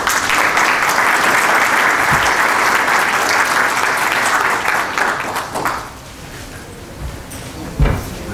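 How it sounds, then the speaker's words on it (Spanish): An audience at a hardware-trade forum welcomes three speakers with loud, sustained applause that fades after about five seconds, followed by scattered thuds and knocks. "por favor recibámoslos con un fuerte aplauso"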